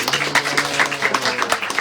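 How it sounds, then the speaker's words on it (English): Audience clapping at a house program in Queens, New York: a steady patter of hand claps from a small group indoors, continuous and fairly loud, with a low hum beneath. "Clapping for them."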